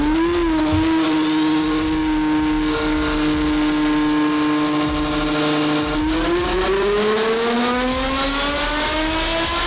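A twin-turbo 1500-horsepower Ferrari F12 engine revs hard and loud, its pitch climbing, dipping, then rising again in long sustained pulls.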